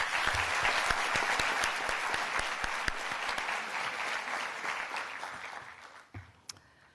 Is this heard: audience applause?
yes